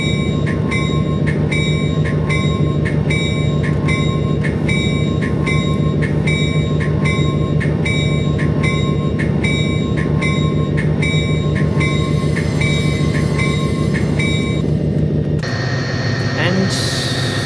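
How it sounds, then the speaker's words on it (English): Amtrak F40PH diesel locomotive pulling a passenger train into a platform in Train Simulator, a loud continuous engine rumble with rhythmic clicking and a whining tone, easing down near the end. "I'm at least going to try to get the whole train in the platform."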